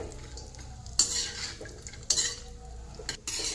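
Cashews fry in a pan for winter edible-gum laddoos: steady scraping and stirring noises over a low background sizzle, with a few sharp utensil knocks against the pan.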